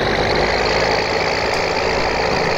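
Steady tractor engine drone from Farming Simulator 2013, a loud continuous idling rumble with broad midrange noise and no talk, unchanging throughout.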